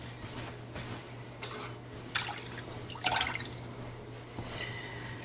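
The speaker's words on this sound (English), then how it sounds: "I have to pour in something cold. And that's what I'm doing with my water. Pouring it in" Cold water is poured into a pan of golden-brown cooked garlic for ramen noodle soup, giving a few short splashing and dripping bursts over a low steady hum.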